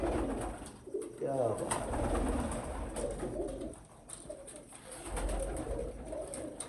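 Breeder pigeons coo softly in low, rolling calls, repeated over a background of faint chatter and ambient noise.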